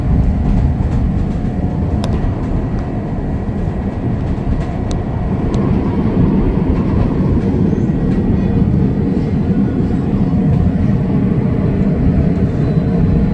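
A loud, continuous train rumble with rattling wheels on track, steady and close throughout, with faint clicks along the way, heard from aboard a train in downtown Chicago.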